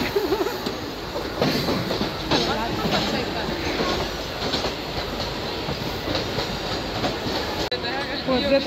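A train rumbles past along Marine Drive in Mumbai, a steady clattering roll of wheels on rails with scattered squeals, close and fairly loud, while people talk over it.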